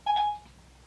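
A mobile phone gives one short electronic beep, a clean tone that dies away fast, followed by quiet room hush and no talk.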